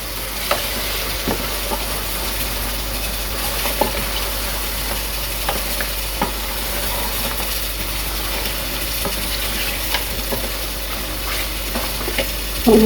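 Meat frying in a pot for Ugandan pilau, a continuous dense sizzle with faint stirring scrapes, close and steady throughout, no voices.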